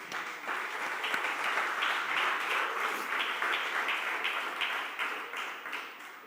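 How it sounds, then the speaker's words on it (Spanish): A church congregation applauds together in sustained, dense clapping that fills the room at steady loudness for several seconds, easing slightly toward the end, with no voices standing out. "Den un aplauso al Señor."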